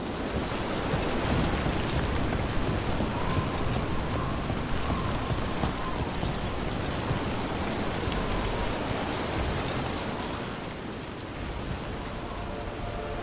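Steady heavy rain in the video game Dragon Age: The Veilguard, a dense continuous hiss that fills the whole stretch, loud and even, with no talking.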